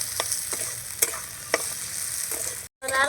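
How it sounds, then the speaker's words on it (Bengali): Chopped capsicum and carrot stir-frying in a pan for aloo kabab, a close, steady sizzle broken by a few distinct scraping stirs of the spatula, with a brief dropout near the end and no talking. "ক্যাপসিকাম কুচিটা একটু নাড়াচাড়া করে নিই"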